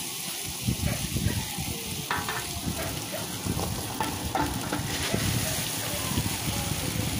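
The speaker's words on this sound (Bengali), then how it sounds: "এখন সিদ্ধ করা রাইসগুলো এর ভিতরে দিয়ে দেবো ঢেলে।" Boiled rice goes into a hot pan for chicken fried rice and is stirred, giving a steady sizzle with scraping and tossing sounds, and a voice talks faintly over it.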